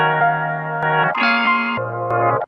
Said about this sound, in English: I've drawn a new riff with pitch shifting